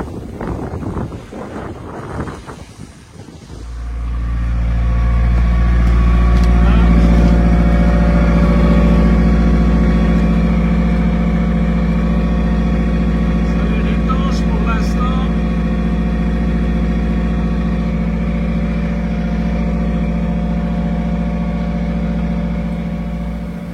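Sailboat diesel engine running under motor with the genoa set, heard as a steady loud low drone with wind noise, after a few seconds of voices and rustling at the start.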